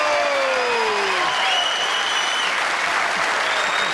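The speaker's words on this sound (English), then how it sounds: "give him a round of applause, Mark Bickley!" Studio audience at an AFL Grand Final breakfast applauds a player's introduction, a loud sustained roar of clapping with a few whistles over it, with a voice trailing off at the start.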